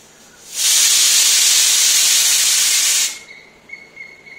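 A pressure cooker cooking chicken curry lets out one loud, close burst of steam whistle, a steady hiss lasting about two and a half seconds before cutting off abruptly, followed by faint kitchen noise.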